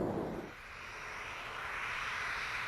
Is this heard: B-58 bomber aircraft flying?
yes